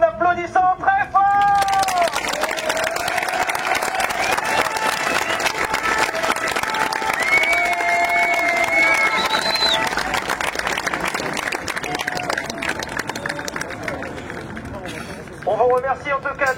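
Crowd at a tuning show applauding and cheering loudly for the organizers, sustained clapping and shouts under a voice over a PA, with bursts at start and end.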